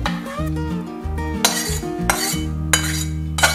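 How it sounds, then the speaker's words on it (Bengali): Ladle and spoon clinks and scrapes against a dish as rohu fish curry is served out, a few sharp metallic taps at irregular intervals over steady background music. "এবারে আমি এটা একটা পাত্রে ঢেলে নেব"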